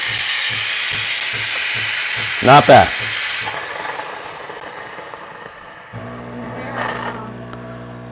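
Breville Barista Pro espresso machine steam wand steaming, a loud broadband hiss running throughout with a short gurgling burst partway in; a voice speaks briefly over it.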